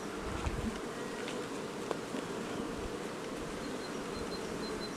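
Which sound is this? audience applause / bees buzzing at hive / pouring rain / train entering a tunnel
bees buzzing at hive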